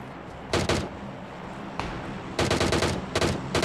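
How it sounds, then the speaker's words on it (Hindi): Gunfire in the mobile battle royale game PUBG Mobile on the Livik map: several sharp bursts of rapid automatic shots, one near 0.5 s, a lone crack near 1.8 s, then longer bursts from 2.4 s, loud with no talk. "आगे से फायरिंग की आवाज़ तो आ रही थी"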